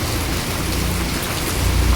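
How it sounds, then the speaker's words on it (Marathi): Heavy rain pours down close by, a loud, unbroken wash of hiss and patter with no voices. "पाऊस पडतोय ना"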